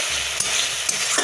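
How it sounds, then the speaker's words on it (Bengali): Spice paste frying with potatoes and pointed gourd in a pan, a steady loud sizzle with soft scraping stirs at intervals. "মশলার সঙ্গে আলু পটলটাকে ভালো মতো কষিয়ে নিচ্ছি"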